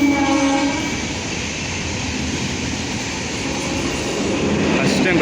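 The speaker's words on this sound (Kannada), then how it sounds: "ಟ್ರೈನ್ ಬಂದು" A train rolls in with a steady, loud roar of wheels and carriages close by, its horn sounding at the start over the rumble.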